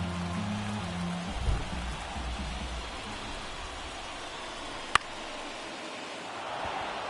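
Rain falls steadily on the Philadelphia ballpark in the baseball video game MLB The Show 24, during a Brewers–Phillies playoff game, a soft continuous hiss broken by a low thump early and one sharp crack midway.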